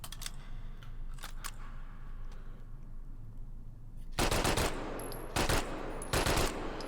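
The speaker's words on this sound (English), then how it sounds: "That's the grease gun." M3 grease gun with a modern sight and bipod, fired in Hot Dogs, Horseshoes & Hand Grenades: three short, loud bursts of automatic fire after a stretch of quiet background, with no talking.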